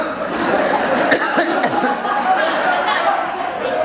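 A group of students in a respiratory-system class cough and clear their throats in a brief noisy burst, mixed with some chuckling and chatter from the room.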